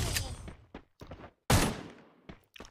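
Gunfire in the mobile game Garena Free Fire, including a Desert Eagle, as a few sharp, separated shots and a short burst with quick decaying tails, close and punchy amid a player's speech.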